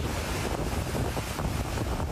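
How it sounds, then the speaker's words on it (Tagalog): Strong wind and rain during a super typhoon in Batanes make a dense, steady roar, loud and unbroken, with gusty buffeting close to the microphone and no voices. "malakas na hangin at ulan ang nanalasa"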